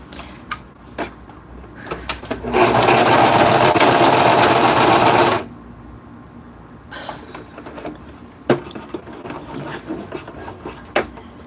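Sewing machine stitching a fabric bag, one loud steady run of about three seconds with quieter handling clicks and rustles before and after.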